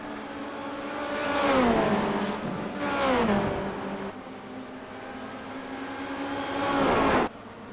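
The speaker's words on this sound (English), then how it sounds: "Marc is 7 in the green, black and white car" Formula Renault 2.0 race cars in a racing video game at Zandvoort scream past with rising and falling engine notes, several revving sweeps and gear changes, moderately loud and without voices.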